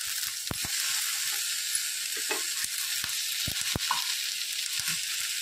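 Onion, tomato and chili fry in a pan with spices, a constant soft sizzle under scattered sharp scrapes and clicks from stirring, with no talk.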